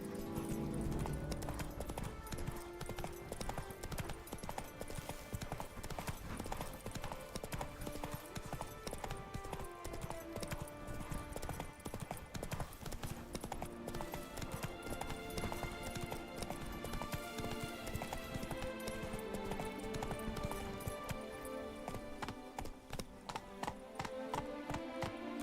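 Roach, the horse in Witcher 3, gallops with rapid rhythmic hoof clip-clops in the game, under loud layered music that runs throughout.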